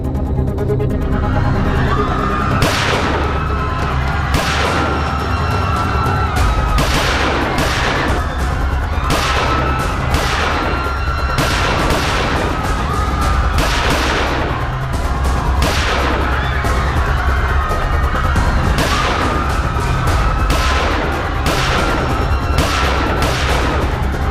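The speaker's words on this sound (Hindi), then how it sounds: "2 घंटे बाद तकरीबन 10 बजे फायरिंग शुरू हुई। कुल मिलाकर 54 राउंड्स फायर हुए" Rapid gunfire rings out in a staged crime drama reconstruction of a shootout in which 54 rounds were fired, with loud repeated shots cracking over a continuous dense roar for the whole stretch.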